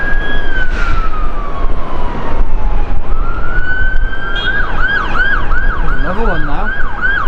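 A fire engine siren wails and yelps at Manchester Airport, first a long falling tone and then a fast warbling cycle, loud and close over steady ground noise, with a brief voice speaking.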